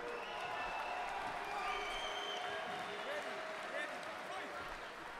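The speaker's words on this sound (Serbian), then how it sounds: "Publika pozdravlja oba borca" Fight crowd at an SBC 36 combat sports event applauding and cheering both fighters between rounds, a steady wash of clapping and crowd noise with voices in the hall and a commentator talking over it.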